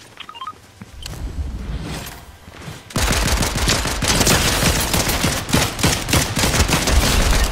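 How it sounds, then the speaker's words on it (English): Fortnite gunfire: rapid, dense volleys of shots that build into loud continuous automatic fire, with a quieter stretch of distant shooting first. "Where are they shooting us from?"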